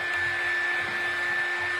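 A hair dryer blows steadily and close up, drying paint on a small craft paintbrush, with a constant whooshing roar and a thin steady whine that run unbroken throughout.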